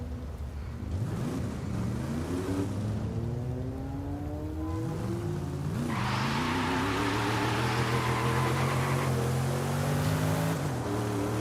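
A classic Mercedes-Benz engine in Forza Horizon 5 revs repeatedly, its pitch sweeping up and down in rising and falling runs, then climbing and holding high near the limiter before dropping, loud and close with no talk.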